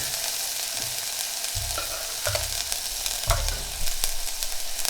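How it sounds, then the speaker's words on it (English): Onion and tomato frying in hot oil, with a loud, continuous crackling sizzle and bursts of stirring and pan knocks. "I'm going to put the tomato too to cool down the oil."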